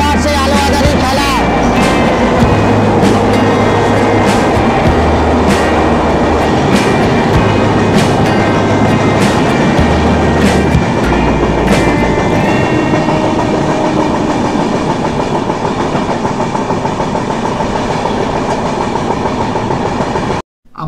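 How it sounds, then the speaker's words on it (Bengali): The Samaleswari Express, Jagdalpur to Howrah, rumbles loudly and continuously through a tunnel, steady rhythmic clickety-clack of wheels over rails echoing closely the whole time, ending in an abrupt cut. "ট্রেন আবার টানেলের মধ্যে ঢুকে যাচ্ছে"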